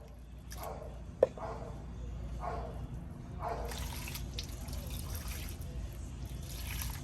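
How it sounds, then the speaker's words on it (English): A freshly air-layered Java plum plant is watered in several short bursts of trickling and splashing, with one sharp click early on and soft murmurs in between. "what you want to do is you want to water it a lot"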